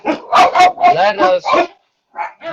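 A few dogs giving a run of short barks and yips in quick succession, close and loud, then after a brief pause two more barks, mixed with a person's voice.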